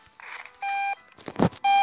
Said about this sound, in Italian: Andiamo con la sveglia.